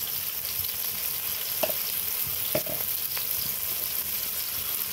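Tomato and mixed vegetables fry lightly in a pan for noodles, giving a soft, steady sizzle with a few faint stirring clicks and scrapes, close by and heard alone.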